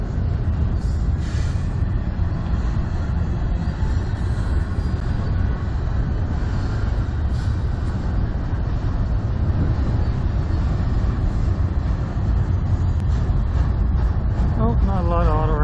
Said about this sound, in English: Good train anyway.